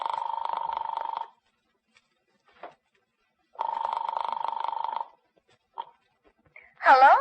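Old-fashioned telephone ringing on the line after dialing in a radio drama, two long bursts of ringing separated by silence, followed by a voice answering.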